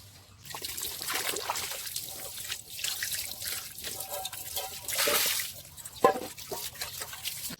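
Jasmine rice being washed in water, with trickling, dribbling and splashing sounds close by, swelling into a stronger gush of water midway and a sharp clink near the end.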